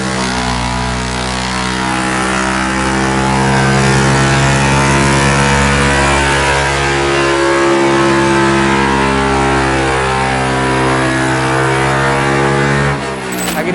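Honda Vario 125 scooter engine revving on a remapped stock ECU during tuning, a loud sustained high rev held steady for over twelve seconds with rising harmonic whine, then dropping off sharply at the end.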